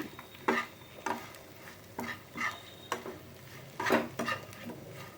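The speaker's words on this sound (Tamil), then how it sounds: "இதெல்லாம் நல்லா ஃப்ரை பண்ணி விடுவோம் நல்லா வதக்கி விட்டு" Taro root is stirred and fried in a pan for a South Indian fry. A spoon scrapes in about six rhythmic strokes over a soft, continuous sizzle, with no talking.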